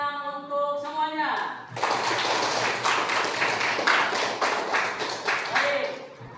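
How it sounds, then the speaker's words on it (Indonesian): Clapping from a junior high school class at the close of a group presentation in an Islamic studies lesson, a dense patter of many hands that follows a brief tonal sound and runs steadily to the end. "Tepuk tangan untuk semuanya."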